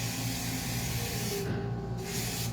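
A continuous spray hisses for several seconds, close and fairly loud, with brief breaks as the nozzle is pressed again.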